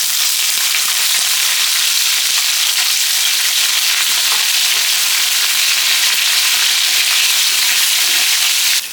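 Shallots, garlic and a sprig of curry leaves fry in hot oil in a pan, giving a loud, steady, dense sizzle that continues unbroken with no voices.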